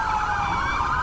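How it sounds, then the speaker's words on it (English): A vehicle siren inside a video game wails in a steady, warbling tone, loud and continuous for the full second with no talking over it. "I think he's also now using a siren"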